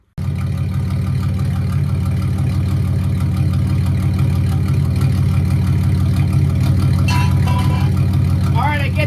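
A Mercedes C32 AMG runs with a straight-pipe exhaust and no muffler, giving a loud, steady, deep drone throughout. Brief higher sounds come near the end.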